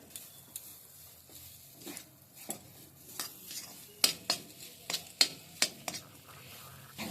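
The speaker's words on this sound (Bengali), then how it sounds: "এইটা নেড়ে নেড়ে একদম শক্ত মতো হয়ে গেছে" Semolina (suji) cooked with milk being stirred in a kadai, with a spoon scraping and clinking against the pan in irregular sharp taps and scrapes, moderately close, with faint background hiss and no talk.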